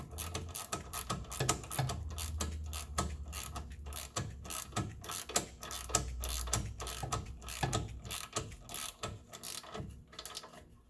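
A hand ratchet snugs a ball joint bolt on a 2006 Subaru Forester, making rapid, close, steady clicking in repeated bursts.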